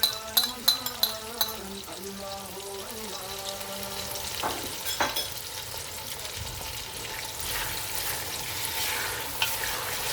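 Mixed vegetables for pulao fry with ginger garlic paste and sizzle steadily in the pan. A spoon clinks and scrapes as they are stirred, with sharp metallic taps at first, then a constant close frying hiss.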